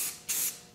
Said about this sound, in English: we're just going to do one coat of primer